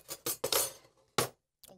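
Kitchen utensils clink and clatter in a few quick bursts as someone rummages for a spatula, close and sharp, with short pauses between the rattles.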